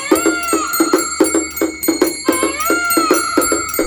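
An automatic mini aarti jhalar machine rings its bells in a fast, steady, repeated pattern of bright metallic strikes with ringing overtones, loud and close with no talking.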